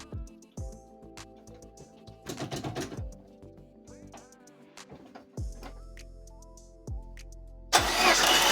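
A Peugeot 205 GTI with a 1.9 engine cranking on the key in several separate bursts. Each burst has a rhythmic starter chug, heard close, with brief pauses in between and a louder rush at the end.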